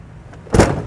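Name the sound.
Toyota RAV4 door closing on trailer wiring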